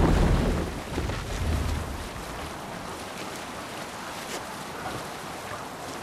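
A Viking longship sailing at sea in Assassin's Creed Valhalla, a steady rush of wind and water against the hull, louder at first and then settling into a constant broad swell.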